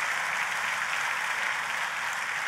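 A church congregation claps together in steady, dense applause that fills the room for a couple of seconds, with no speech over it.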